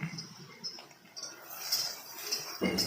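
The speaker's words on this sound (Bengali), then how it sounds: "এখন ভালোভাবে নাড়াচাড়া করে নিব যেন কড়াইয়ে লেগে না যায়।" Tomato, whole cumin and ginger stirred in a kadai, with light metallic clinks and scrapes of a spoon against the pan, quiet and sparse, a louder scrape at the end.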